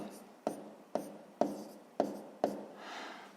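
A pen writing numbers on paper during a sixth-grade math exercise, five sharp tapping strokes at regular intervals each trailing into soft scratching, close and quiet, followed by a brief rustle.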